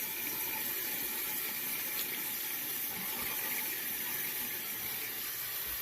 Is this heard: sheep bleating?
no